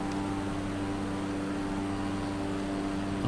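Steady propeller aircraft engine drone from a bush flight simulator game on a Tasmanian route from Bruny Island to Triabunna, a constant loud hum with no talk.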